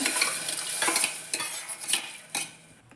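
Dal being stirred into a pan of frying green chilies for tamarind-leaf dal curry, a run of close scraping and clinking strokes over a steady oil sizzle, with no talk.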